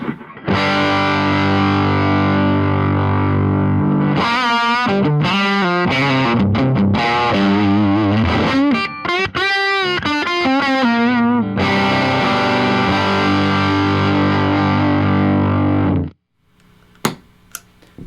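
Overdriven electric guitar through a Marshall Class 5 amp with a Euphoria overdrive pedal rings out with sustained distorted chords and bending lead notes, loud and continuous, then cuts off into near silence with a few clicks.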